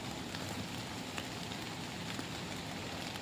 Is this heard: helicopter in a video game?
no